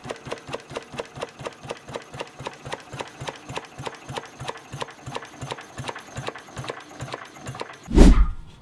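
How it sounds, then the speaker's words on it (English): A Lister 6/1CS single-cylinder stationary diesel engine runs at slow speed with a steady, even thumping beat, close and clear, then ends with a sudden loud burst. "The Lister 6/1CS diesel engine shown here is a classic slow-speed stationary power plant"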